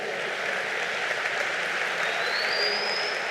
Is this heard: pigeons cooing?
no